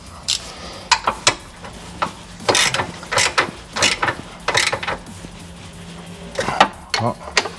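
Ratchet wrench clicking in short bursts while tightening the torque mount bolt on a Peugeot TU engine, a series of close, crisp ratcheting strokes separated by brief pauses.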